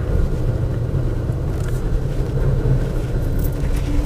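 A 2017 Toyota Tacoma crawls over rock and dirt in four-low with traction control off, giving a continuous deep rumble of engine and tires, steady and loud with no talking.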